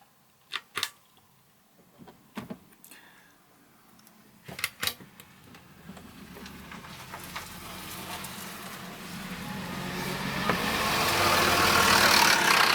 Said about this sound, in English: I've got the buses going past.